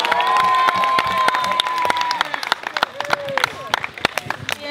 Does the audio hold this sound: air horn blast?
no